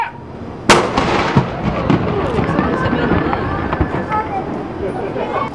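A black powder cannon fires aboard the USS Constellation in Baltimore, one sharp loud blast followed by a rumbling echo and crowd noise, with people talking and reacting afterward.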